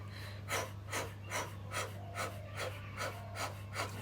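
Steady, rhythmic breaths during a hip and toe mobility exercise, about two per second, airy and close to the microphone over a low constant hum, with no talking.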